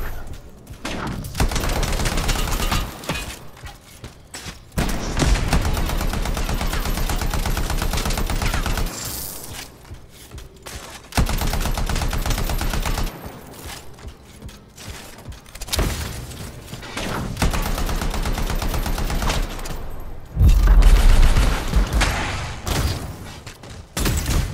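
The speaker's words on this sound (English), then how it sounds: "Let's switch back to the assault rifle." Repeated bursts of assault rifle fire in the sci-fi shooter Anthem, Xbox One X, loud and close, in rapid sustained volleys broken by short pauses, with a heavier boom near the end.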